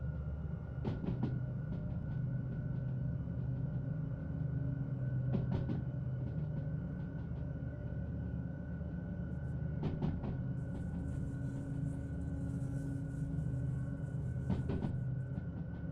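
A train in the Derail Valley simulator rumbles along steadily, with sharp metallic clanks recurring every few seconds and a thin high screech rising near the end, moderately loud throughout.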